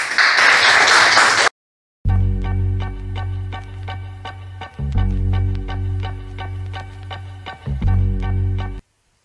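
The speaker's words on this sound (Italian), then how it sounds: "Applauso a Sara" An audience claps for Sara after a documentary film screening: a short, dense burst of applause, then silence, then tonal music with ticking beats takes over.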